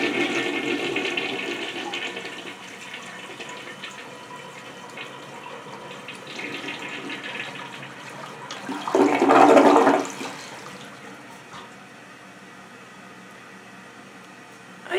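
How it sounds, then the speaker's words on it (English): Briggs Abingdon toilet flushes once, a loud rushing burst of water that rises and fades over a few seconds, with quieter room noise and running water before and after. "here's a flush."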